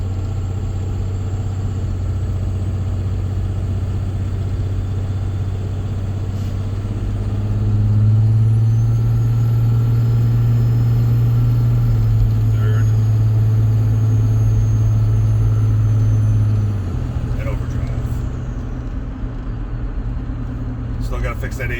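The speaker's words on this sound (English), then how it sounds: "I'm getting ready to record the shifting of the truck" A 2006 Dodge Ram 3500 diesel pickup with a 48RE automatic transmission and a rebuilt valve body idles at a stoplight, then rises to a steady heavier drone before settling back, a continuous close, low rumble.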